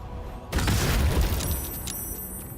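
A smoke powder bomb explodes in Baldur's Gate 3 with a sudden loud boom, then a rolling, crackling rumble that slowly fades alongside faint high ringing tones.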